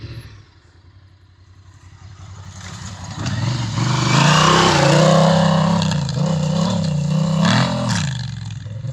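A Honda Africa Twin motorcycle, 2020/2021 model, revs while riding through sand, its engine rising from a low idle into a loud, sustained roar that holds steady for several seconds before easing slightly, heard alone without talk.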